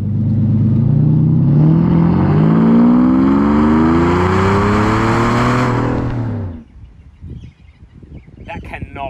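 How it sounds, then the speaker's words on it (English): A straight-piped Toyota V12 car engine revs hard, its loud, rising harmonic roar sustained for about six seconds before cutting off abruptly, followed by quieter street background. "It's a Toyota. No Toyota sounds like that."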